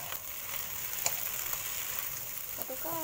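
Kailan greens, soaked beforehand, going into a pan with shrimp and being stir-fried, giving a quiet steady sizzle and hiss with faint clinks of stirring close by.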